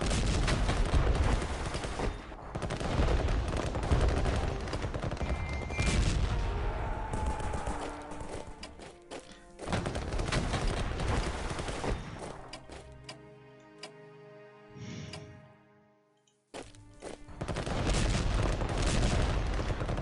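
Artillery fire in the World War I strategy game Strategic Command: World War 1, heard as repeated loud booming blasts and crashes that come in bursts with brief pauses, with no talk over them.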